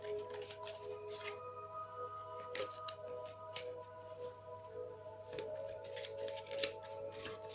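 Tarot cards being shuffled and drawn by hand, a soft, quick papery riffling and flicking that runs almost the whole time at low level, with faint ticks and slides between bursts.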